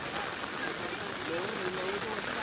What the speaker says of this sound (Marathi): जास्त जोरात पाऊस लागलेला आहे